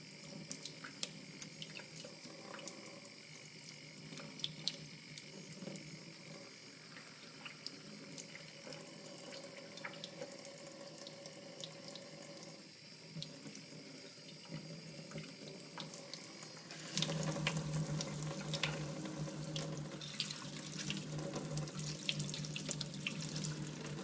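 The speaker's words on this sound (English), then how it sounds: "first thing we're going to try to do is put it under running water" Water runs steadily from a sink faucet, a continuous splashing stream that grows louder and fuller partway through as the flow strikes something beneath it.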